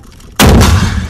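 A single loud gunshot cracks out from an armored personnel carrier's weapon during military firing training, after a brief quiet moment, with a booming tail that rings on for most of a second.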